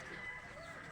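A chicken on an outing up a mountain gives soft, close clucking, a brief burst of low throaty calls that is quiet and short.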